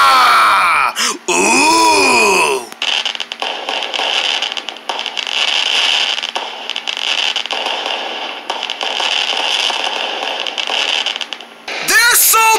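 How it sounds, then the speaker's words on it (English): Fireworks crackle and fizz loudly and continuously for several seconds, a dense close sputtering, with excited voices exclaiming before and after. "I said the fireworks are beautiful!"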